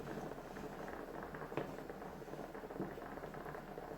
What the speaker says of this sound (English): So my kawunga is starting to boil.